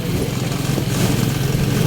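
A motorcycle engine runs steadily outdoors, a low continuous rumble with some wind or road noise across the short stretch.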